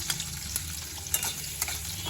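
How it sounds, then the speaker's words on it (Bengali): Chopped onion frying and being stirred in a pan, a steady soft sizzle with a few scraping clicks from the spatula, close up and fairly quiet, with no voices. "পেঁয়াজটা একটু ভাজা ভাজা হবে"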